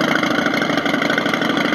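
Simulated engine hum from the lighting and sound module of a wooden children's balance bike, a steady mid-low idling drone with slight pulsing, continuous and fairly close, with no voices.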